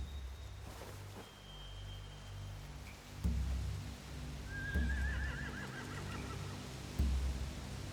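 Horses whinny and neigh in The Walking Dead: The Final Season video game, several faint calls over a low ambient rumble with soft thumps.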